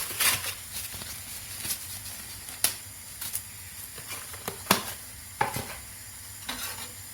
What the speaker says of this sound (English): So just keep mixing it.